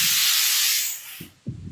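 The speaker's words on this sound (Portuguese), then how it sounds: "É minha panela de pressão." Loud pressure cooker releasing steam in a strong continuous hiss that fades out after about a second, followed by a couple of short low thumps.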